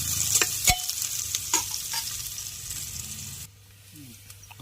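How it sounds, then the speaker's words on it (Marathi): Onion sautéing in oil in a pan over a traditional wood-fired chulha while mutton is being cooked, with a steady sizzle and a few sharp scrapes and clanks of the spoon as it is stirred, close and loud, cutting quieter near the end. "कांदा टाकायचा आहे मित्रांनो। तो चांगल्या प्रकारे परतून घ्यायचा आहे मित्रांनो।"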